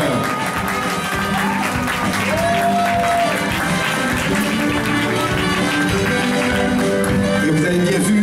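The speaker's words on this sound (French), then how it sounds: "Vos applaudissements, s'il vous plaît," A carnival crowd in Guadeloupe claps and cheers for a costumed woman, steady applause mixed with crowd noise, music tones and voices throughout.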